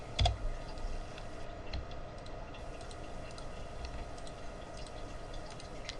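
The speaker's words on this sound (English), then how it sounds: "you hit the A button, click, click, right click" Computer mouse clicking during 3D modeling work, faint scattered clicks with one sharper click near the start over a steady background hum, no talk.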